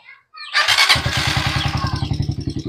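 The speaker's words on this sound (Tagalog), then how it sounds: "biglang umiingay yung makina ng inyong motor" A Honda TMX Alpha 125 motorcycle with a noisy replacement carburetor starts up, catching after a brief silence and settling into a close, rapid, uneven idle.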